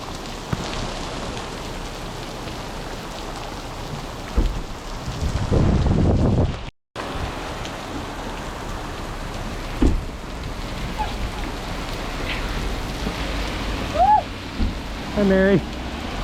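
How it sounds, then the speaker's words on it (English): Steady heavy rain and hail hiss throughout at a Colorado stable in summer, with gusts of wind buffeting the microphone and a few faint chirps near the end. "It's raining good though. And it's hailing."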